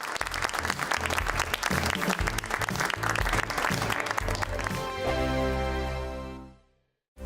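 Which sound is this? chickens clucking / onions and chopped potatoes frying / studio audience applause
studio audience applause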